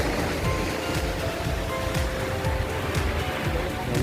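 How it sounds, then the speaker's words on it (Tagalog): Sea waves at Lemery beach roll in a continuous, loud, broad roar of surf with gentle swells in the wash. "Dito na po kami sa dagat ng Lemery."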